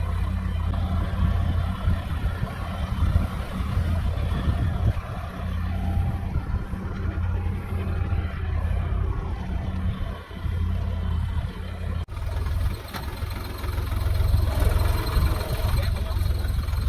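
A tractor works uneven barren land, mixing waste into the soil, its engine producing a steady, close, low-pitched drone with rough mechanical clatter and wind noise throughout.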